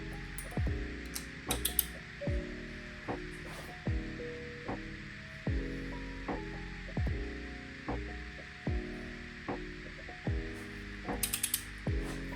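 A torque wrench ratchets in repeated quick clicking strokes as cylinder head bolts are tightened on a turbo Miata engine, about a dozen pulls spaced across the stretch, close and clear with a faint background hum.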